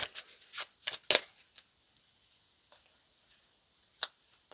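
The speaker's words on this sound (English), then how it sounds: "Let's pull out a few tarot cards here." Tarot cards are shuffled and drawn close by in a quiet room, giving a few crisp riffling bursts followed by scattered soft flicks and taps.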